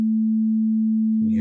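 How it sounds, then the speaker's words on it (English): A 220 hertz sine wave played from a computer, a pure, steady, unwavering hum held for over a second, then a voice begins as the tone ends. "let's play what a 220 hertz sine wave sounds"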